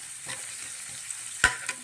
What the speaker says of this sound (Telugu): మెంతి కొంచెం ఫ్రై కావాలి.